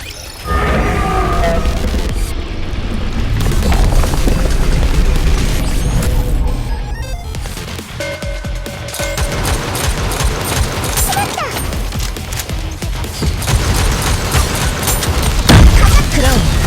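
Concentrated gunfire in a video game, a dense continuous barrage of shots and booms lasting the whole stretch, loud and sustained with explosions mixed in.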